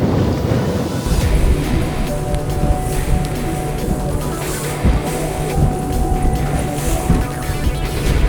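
Strong wind on a 26-foot boat at sea, a continuous roaring rush with gusty buffeting against the microphone and waves washing beneath, loud and unbroken throughout.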